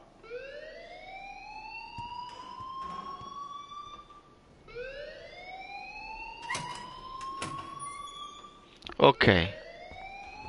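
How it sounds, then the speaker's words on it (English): A fire alarm rings in the video game Life Is Strange, sounding as two rising electronic wails one after another, each sweeping upward in pitch, followed by a short burst of clattering noise and a brief spoken word. "please turn off that alarm"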